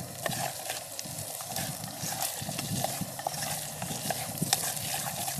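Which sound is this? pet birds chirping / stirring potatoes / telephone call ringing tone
stirring potatoes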